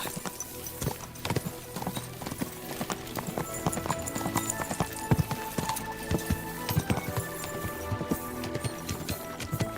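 Horse hooves clip-clop steadily and close by in the medieval video game Kingdom Come: Deliverance II, a quick continuous rhythm of sharp knocks with faint background sounds and no clear talking.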